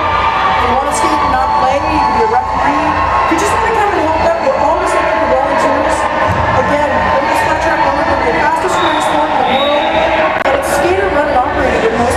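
A roller derby crowd in an arena cheers and whoops steadily as Team Ontario takes its lap, a loud continuous roar of voices with scattered shouts throughout.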